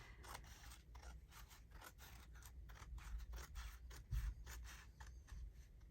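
Scissors snip through paper journal pages in a quiet string of short, crisp cuts at an uneven pace, close by with no talking.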